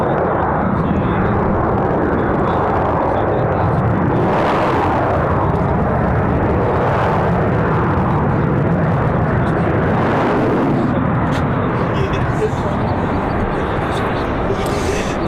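A Delta airliner touching down, heard as a loud, steady jet roar with slow swells at an airport, with spectators talking over it throughout.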